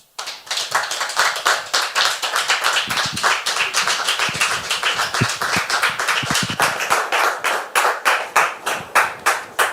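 A studio audience bursts into loud, dense applause to welcome a woman guest onto a French television show, many hands clapping steadily for nearly ten seconds without talk.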